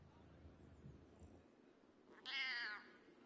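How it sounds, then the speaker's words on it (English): A cat in the video game Baldur's Gate 3 gives a single clear meow while being petted, a short drawn-out call near the end after a stretch of quiet background. "I got to pet the cat!"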